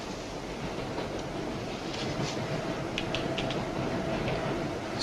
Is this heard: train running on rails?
yes